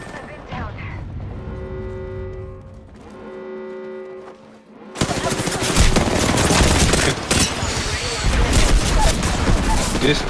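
Bursts of gunfire in a video game battle, with dense rapid shots and blasts crowding a loud, chaotic stretch after a calmer opening.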